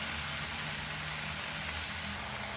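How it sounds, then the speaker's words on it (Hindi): Green onions and green chillies frying in a pan for a potato and green onion curry, a steady faint sizzle with a low background hum, continuous and unbroken. "अब हम सारे अपने हरे प्याज को फ्राई करेंगे"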